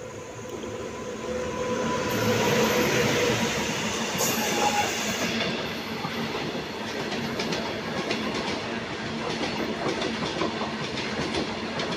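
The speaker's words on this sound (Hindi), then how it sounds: "track sound" A train running along the track at Etawah Junction railway station in the morning, a loud, steady rumble with rhythmic wheel clatter and brief squeals, close by and continuous throughout with no talk.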